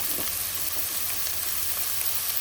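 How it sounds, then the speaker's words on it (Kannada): Capsicum curry frying in a pan, a dense continuous sizzle throughout with faint stirring, steady and close with no talking. "ಹಾಕ್ಬಿಟ್ಟು ಫ್ರೈ ಹಾಕ್ತಾಯಿದ್ದೀನಿ"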